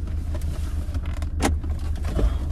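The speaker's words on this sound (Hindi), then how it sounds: "बस इसी जगह गाड़ी रोक लो" A car slowing to a stop on a road at night, a steady close engine and road rumble with a few clicks and a brief louder rustle partway through, no one talking.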